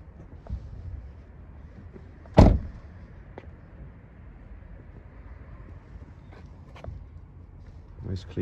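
Sliding rear door on a Combo 1.5 diesel van, heard as one loud sharp slide-and-thud with a few faint clicks and knocks around it against a quiet background.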